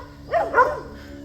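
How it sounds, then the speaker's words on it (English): Dogs bark twice in quick succession, muffled and moderately close, set against a low steady background hum near a home office. "Damn dogs."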